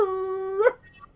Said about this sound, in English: He barking so much today, he's freaking lost his voice.